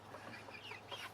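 Chickens clucking softly at close range, short low murmuring calls repeating over about a second against a steady low hum, with no talk.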